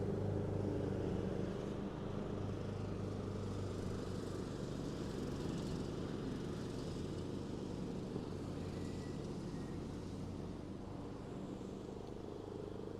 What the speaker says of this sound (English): I feel bad about that guy mowing the yard.